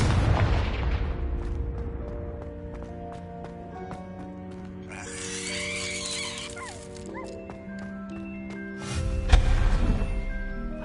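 Confringo blasting spells from Hogwarts Legacy erupt in booming explosions: one heavy roar mid-clip, then a sharper blast near the end, over a steady game score with scattered small impacts.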